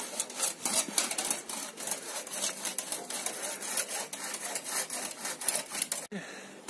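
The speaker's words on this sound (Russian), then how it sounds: "Распилим ее напополам и вытаскиваем по кусочкам." Steady back-and-forth strokes of a hand saw cutting a wooden concrete formwork board in half, rhythmic and close, continuing for several seconds before a sharp knock near the end.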